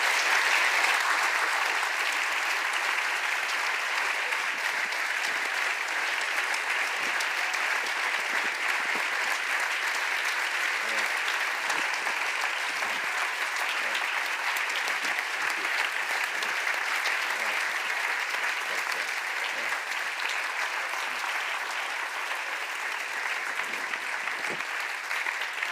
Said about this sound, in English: Let's applaud Daron.